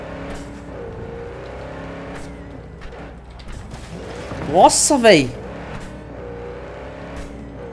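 Car engine and exhaust in Cyberpunk 2077 revving up hard, climbing in pitch and then dropping, loud and near over a steady background drone, with someone talking excitedly.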